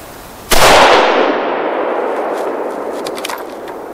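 A single sharp rifle shot from a HEYM-built Ruger No 1, a sudden loud crack followed by a long fading echo rolling out across open ground.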